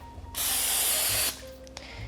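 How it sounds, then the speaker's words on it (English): A can of Pam cooking spray misting loaf pans for white bread, one loud, steady hiss lasting about a second, close up, followed by quiet kitchen handling. "I'm going to take just this bottle of Pam, and I'm going to spray that on the loaf pans."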